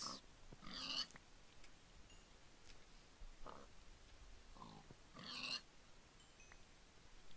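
Pigs oinking in the Minecraft video game, a series of short, faint grunts scattered across several seconds with pauses between them, heard alone without talk.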